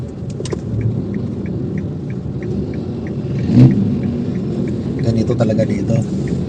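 City traffic on Anonas Road between Aurora Boulevard and Camias Road rumbles around a manual car being driven, with a steady engine drone, a brief revving swell, and a faint ticking indicator, under a voice.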